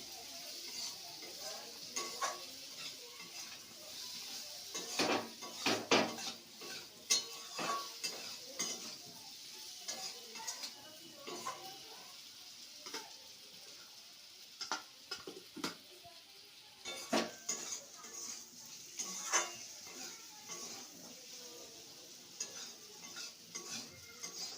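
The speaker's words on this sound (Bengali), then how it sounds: "আলুর সাথে মশলাটা ভালোভাবে কষা হয়ে গেছে" A spatula stirs spice paste and potatoes in a pan, with repeated close scrapes and metallic clinks against the pan over a soft, continuous frying sizzle, in irregular bursts throughout.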